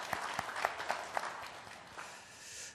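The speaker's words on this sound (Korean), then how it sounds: "사랑과 격려의 박수 한번 크게 해주시기를 바랍니다" A church congregation claps in encouragement during an early-morning prayer service, a few sharp individual claps at first spreading into soft, scattered applause that thins out and fades toward the end.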